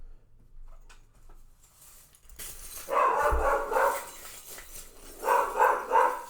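Several dogs barking at a distance after a quiet opening, two bursts of repeated barks with a short pause between them.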